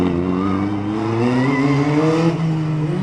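Slalom race car at a Carcassonne event accelerating hard, its close engine note rising steadily through the revs over a few seconds with a brief shift partway through.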